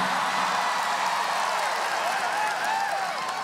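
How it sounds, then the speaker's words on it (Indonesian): An audience at a political declaration event in Indonesia applauds in one dense, loud, sustained wash of clapping from a large crowd, with voices faintly mixed in. "Kok tepuk tangannya paling keras nih,"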